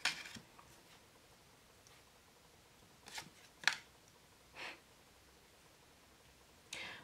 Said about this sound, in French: On va faire un petit tirage avec le Sweet Ladies.